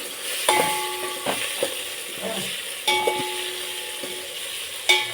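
Shahi jeera crackling in hot oil as the base for homemade tomato pulao, a steady close sizzle with a few sharper stirring knocks and clinks scattered across it, with no talking.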